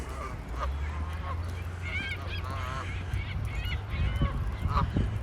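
Geese honking near a lake walking path in Regina in early spring, repeated calls from several birds over steady outdoor background noise.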